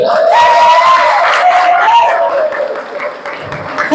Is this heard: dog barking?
no